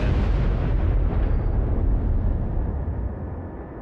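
A naval shell hits and explodes in World of Warships, a dense, loud, roaring blast that rumbles on and slowly fades with no talk.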